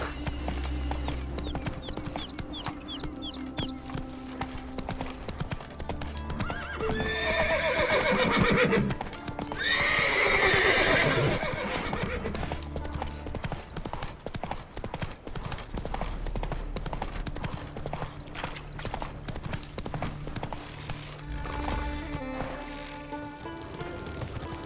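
Horse galloping in The Witcher 3 video game, continuous rhythmic hoof clip-clop with a loud neigh near the middle, set against a game ambience and low rumble, with no talk.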